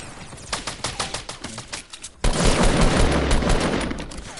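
Gunfire in Fortnite, first as a run of separate sharp shots, then a sudden, loud, dense burst of rapid fire that keeps going to the end.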